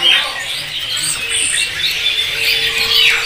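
Samyong songbirds at a bird market kiosk chirp and trill continuously in a dense, busy chorus of high tweets, close and fairly loud, with a faint low background hum.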